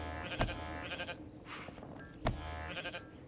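Sheep on a farm in the colony-building game Before We Leave give two clear, close bleats with a short pause between them, over a faint ambient background.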